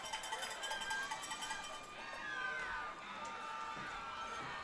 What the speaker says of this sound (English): The crowd seems to have woken up.